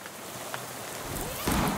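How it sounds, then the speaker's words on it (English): Steady rain hisses in the video game Shadows Over Loathing, a dense broadband wash that swells slightly louder near the end, with no voices. "the rain comes along and ruins it"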